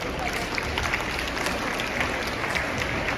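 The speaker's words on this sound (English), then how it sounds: "Round of applause." Faint, distant applause from an audience at a school inter-house debate competition, a soft steady wash of clapping throughout.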